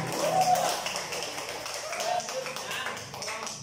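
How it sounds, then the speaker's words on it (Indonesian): Classroom clapping by students for a group during a teacher training class, a dense patter of hand claps filling the room with voices sounding over it throughout. "tepuk tangan buat kelompok."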